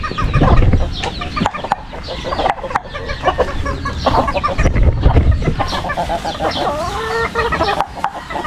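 Chickens cluck and squawk close by while being fed, with a busy overlapping flock chatter, sharp clicks and occasional louder calls throughout.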